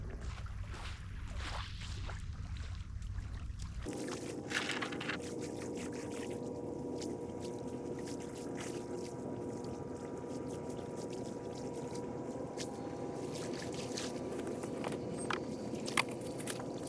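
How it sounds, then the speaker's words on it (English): Rock scraping against a boat hull on a bay shoreline, a low continuous grinding rasp that sets in sharply and runs steadily, close by, with scattered knocks and no talking. "To hear that rock scraping up against the boat."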